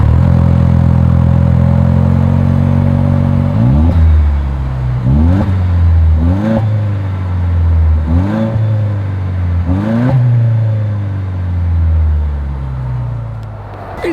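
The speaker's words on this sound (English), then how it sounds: "Here is that exhaust clip." A 2025 Toyota Land Cruiser's exhaust at idle, then about five sharp throttle blips that each rise and fall back, loud and close with no talking over it.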